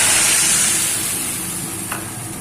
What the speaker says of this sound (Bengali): প্রথমে আমি সর্ষের জলটা আমি কড়াইতে দিয়ে দিচ্ছি